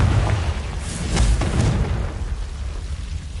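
Confringo fire spell detonates in Hogwarts Legacy gameplay, a deep booming burst with a rumbling tail that fades over a few seconds, heard alone without talk.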